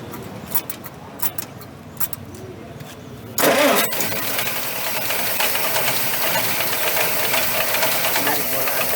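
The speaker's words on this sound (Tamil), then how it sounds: "இந்த வண்டியோட என்ஜினோட சவுண்ட் பற்றி பார்த்துருவோம்." A 1957 Plymouth Savoy engine cranks over and catches with a loud burst at about three and a half seconds, then settles into a steady, smooth, fairly quiet idle that runs to the end.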